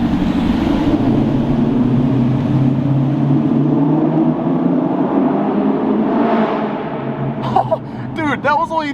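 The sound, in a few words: Lexus LS 460 engine revving to 3,000 RPM in parking garage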